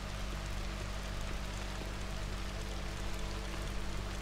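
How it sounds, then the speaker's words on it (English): Video game rainfall makes a soft, even hiss of drops, steady and fairly quiet, with no voices. "it's raining, I don't know if I should be out"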